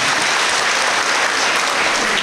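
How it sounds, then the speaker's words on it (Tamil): A crowd claps steadily at a Tamil political rally in Tiruppur, a dense, continuous wash of applause held at full strength with no talk on top. "கைத்தட்டுங்க"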